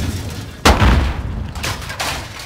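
In a first-person shooter video game, a grenade goes off with a sudden heavy boom, followed by rumbling and scattered shots from nearby gunfire.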